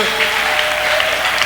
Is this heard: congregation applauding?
yes